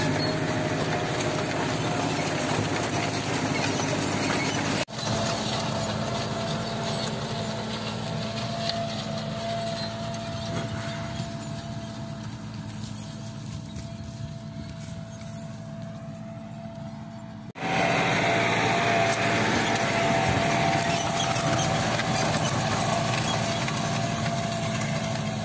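A tractor pulls a planter sowing soybeans in a field. Its engine drones steadily and loudly throughout, dips briefly, then returns a little louder, with no talk.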